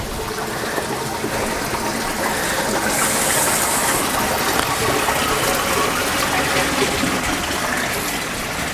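Aquaponic grow bed flooding on its tide cycle, a steady rushing gush of water pouring in, close and continuous with no talk.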